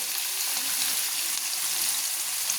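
Onion frying in a pan, a steady bright sizzle that holds evenly and loudly from start to finish with no talk.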